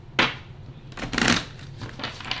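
Tarot cards being shuffled and cut by hand, two brief riffling bursts with a soft pause between and lighter card handling after, close and quiet with no talk.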